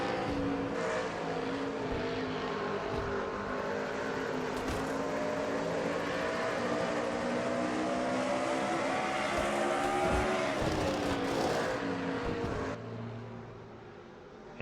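Pickup trucks race on a short oval track at Indianapolis, engines roaring close and loud with rising and falling pitch as several pass by, the din easing near the end.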